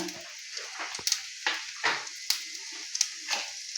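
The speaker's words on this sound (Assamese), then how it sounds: "তেলতে মই কেইটামান গোটা জিৰা দি দিম।" Whole cumin seeds dropped into hot oil crackle and sizzle close by, a steady hiss broken by sharp pops and spits scattered through it, with no voices.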